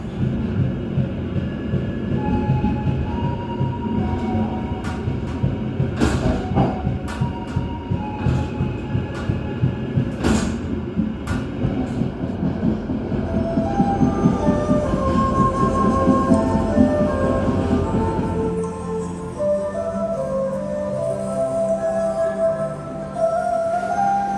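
The Sembrani passenger train rolls steadily along the rails between Jakarta and Semarang with a constant rumble, the wheels clacking rhythmically over the track joints, and the motion eases toward the end.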